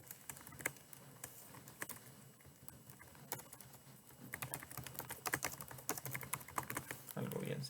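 Computer keyboard typing while entering code, irregular clicking keystrokes in quick bursts that grow busier toward the end, close and fairly quiet, with someone speaking briefly at the close.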